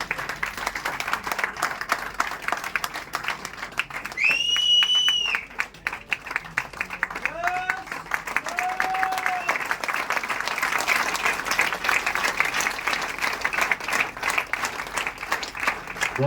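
Loud, sustained applause from a large audience at a business seminar, dense clapping filling the room for the full stretch, with a few brief vocal tones and whistles rising above it midway.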